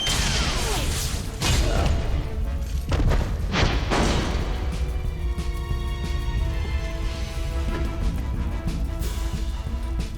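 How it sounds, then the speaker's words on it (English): Missile barrage attack in the video game Costume Quest, several heavy booms and whooshing impacts early on, then ringing tonal game music and effects sustained to the end. "Missile barrage."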